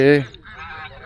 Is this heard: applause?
no